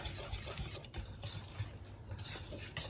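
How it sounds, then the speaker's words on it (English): A spoon stirs egg yolks into thickened hot pie filling in a pan over medium-low heat, making soft, faint scraping and gentle wet swishing with small irregular strokes and no talking. "I'm going to add the eggs. Egg yolks, right? Egg yolk. Stir that up good."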